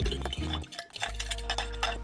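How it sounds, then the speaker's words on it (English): A whisk beats a soy sauce mixture in a bowl, giving a quick run of light clinks and ticks against the bowl over a low steady hum. "And then 4 tablespoons of soy sauce."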